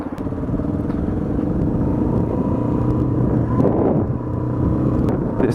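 A Sainsbury's van pulls along in first gear with a steady, low engine rumble, heard close from inside the cab and holding at an even level.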